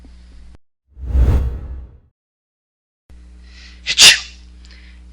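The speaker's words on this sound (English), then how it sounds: "You've been sneezing a lot lately." A person with seasonal allergies lets out a loud sneeze, then after a short quiet gap a sharper second burst, both close and isolated.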